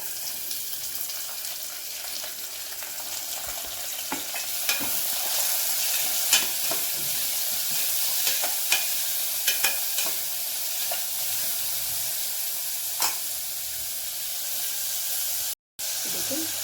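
Onions sizzle in hot oil in a pan for tomato kichidi, with a constant frying hiss and intermittent scrapes and taps of a stirring spoon close up.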